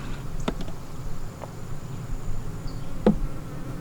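Honey bees buzz around an open hive that is only half filled, a steady close insect hum with a few sharper passes and a brief louder buzz near the end.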